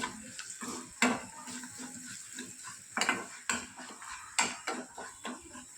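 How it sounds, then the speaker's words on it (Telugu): A spoon scrapes and clanks against a pan while stirring an onion and garlic chutney tempering with turmeric, giving irregular sharp metallic knocks over a soft sizzle, close by with no talking. "ఒకసారి అంతా కూడా బాగా కలుపుకోవాలి"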